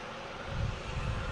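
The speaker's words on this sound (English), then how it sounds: "All right, we got the big American 777 heading out here." American Airlines Boeing 777 departing Boston Logan for London Heathrow, a steady low jet roar that swells slightly partway through and holds, fairly distant and alone.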